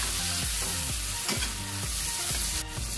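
Onions fry and sizzle in a pan for sardine sambal, a dense continuous crackle with repeated rhythmic stirring scrapes, close and loud with no talking.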